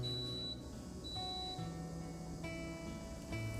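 Several short electronic alert beeps from a deep fryer sound at intervals, each a clear steady tone, over a constant low background hum with no talking.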